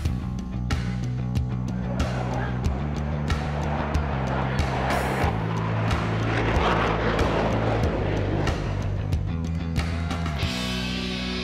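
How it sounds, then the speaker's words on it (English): Airplanes fly past at an air show on a base. A steady, loud engine roar and propeller drone rises and swells over several seconds, with faint speech underneath. "all the airplanes going by really fast"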